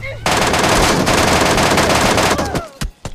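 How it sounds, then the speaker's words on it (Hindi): An MK14 rifle in PUBG Mobile on the Miramar map fires a loud, dense burst of rapid shots for about two seconds, followed by a few separate single cracks and brief quiet gaps. "बंदे के ऊपर मैंने MK14 से बॉडी शॉट स्ट्राइक किए"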